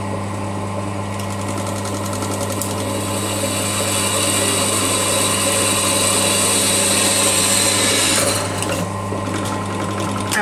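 A drill bores holes through a kitchen knife blank, a steady loud whirring motor drone with a strong low hum throughout, rising slightly in intensity in the middle before easing near the end.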